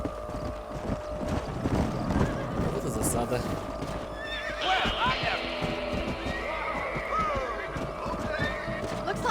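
Horses in the video game Red Dead Redemption clip-clop along with rhythmic hoofbeats and give loud, close whinnies, while someone talks over the game sounds.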